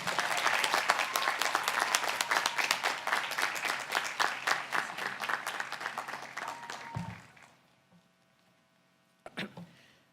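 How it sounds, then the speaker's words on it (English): Audience at a College of Education & Integrative Studies commencement applauds an award recipient, dense steady clapping for about seven seconds that fades out, followed by near silence and a brief thump. "Please congratulate him by giving him a round of applause."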